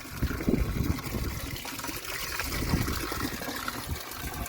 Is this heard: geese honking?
no